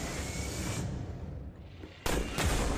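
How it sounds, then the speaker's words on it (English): Gunfire aimed at a van's tires in a staged comedy scene, a rough burst of shots and noisy bangs ending in a sharp loud crack near the end, with no talking. "Simmons, I need you to shoot those tires up right now!"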